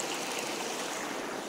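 A river stream flows steadily nearby, a soft, even rush of water with no voices.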